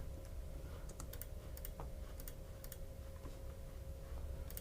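Soft, steady clicking of computer keys at close range, a run of light taps spread unevenly through a quiet room with no talking.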